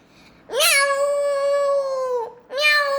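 A narrator imitates a cat with two loud, drawn-out meows, the first long and wavering, the second starting just after a brief pause, close and clear with no other sound.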